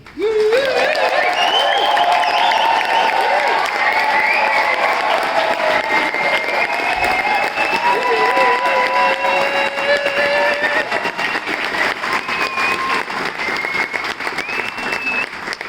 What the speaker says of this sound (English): I want to hear a huge round of applause for all of the staff who've worked here throughout this 13-year period